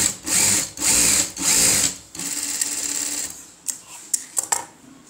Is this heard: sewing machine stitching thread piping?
yes